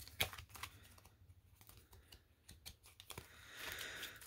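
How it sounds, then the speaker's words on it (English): A deck of playing cards being shuffled by hand, quiet crisp riffling and tapping bursts spread across the span, with no voices. "let's finish the shuffle"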